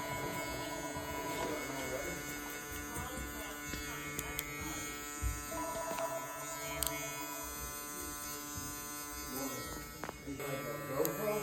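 Electric hair clippers buzzing steadily at close range while tapering the back of a client's neck, with a constant hum that shifts slightly as the taper lever and angle change, and small bumps of contact along the way.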